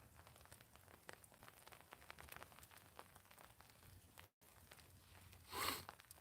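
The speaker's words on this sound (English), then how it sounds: "Can you guys hear the rain bouncing off the tarp?" Rain patters steadily on a hammock tarp, a dense stream of small close-up drops with a brief drop-out and a louder burst of rustling near the end.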